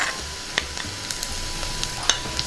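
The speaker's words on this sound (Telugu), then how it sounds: "వీటిని కూడా బాగా వేయించుకుందాం" Peeled, boiled taro root pieces frying in a pan with ginger-garlic paste give a steady close sizzle, with a few light scrapes and clicks of a stirring spoon over the hiss.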